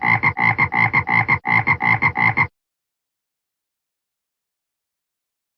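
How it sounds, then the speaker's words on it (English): Frog croaking in a quick run of about a dozen loud, rhythmic croaks over the first half, close and alone, then silence. "Frog makes the sound."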